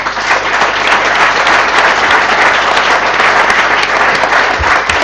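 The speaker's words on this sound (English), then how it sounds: "Please applaud your dinner party guests." An audience applauds dinner party guests with loud, close, sustained clapping that stays dense and steady throughout, with no voices on top.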